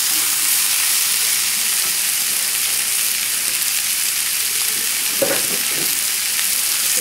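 Onions fry in a pan with a steady, close sizzling hiss that runs throughout, joined by a few brief stirring scrapes near the end.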